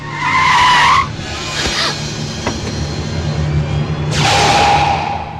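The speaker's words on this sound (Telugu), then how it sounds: "అదిగో రాజుగారి కారు వస్తుంది, ఫాలో అవ్వండి." In a film scene a car arrives with tyres screeching, one loud squeal at the start and another near the end, an engine rumbling steadily between them.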